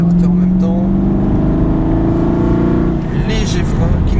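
A race car accelerates out of a corner on a circuit, its engine note rising steadily and loud from inside the car, with someone talking over it.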